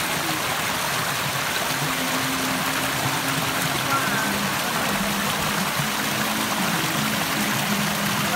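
A forest stream flows with a steady, unbroken wash of rushing water, close and even throughout.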